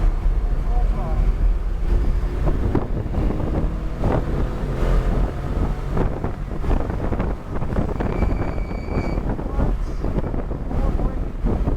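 A Corvette C8 Z51 pushed to full throttle on the track at New Hampshire Motor Speedway, with a loud, continuous engine roar under heavy wind buffeting from inside the car and a voice talking over it.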